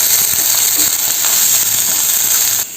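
Sliced big onion sizzles steadily and loudly in hot coconut oil with mustard seeds, chana dal and curry leaves for a broad beans poriyal, a continuous close frying hiss with faint stirring clicks that drops off at the end.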